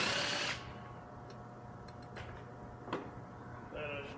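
Cordless power drill backing out screws from a panel under the rear of an electric Race Parx kart, a brief loud whir at the start followed by faint clicks and a short whine near the end.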